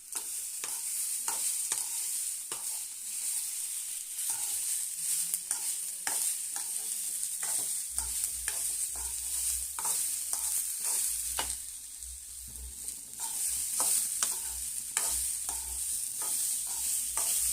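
Beetroot poriyal is stirred and mixed in a pan, with a steady light sizzle under repeated close spatula scrapes and taps in an uneven rhythm.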